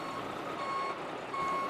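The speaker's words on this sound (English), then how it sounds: "This is the truck that we use to transport our adult hickory shad from the Susquehanna to Manning Hatchery" A fish transport truck that carries adult hickory shad from the Susquehanna to a hatchery gives a steady tonal reversing beep over a constant engine rumble, close and fairly loud.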